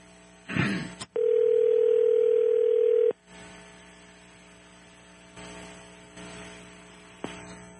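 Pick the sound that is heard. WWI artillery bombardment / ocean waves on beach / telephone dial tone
telephone dial tone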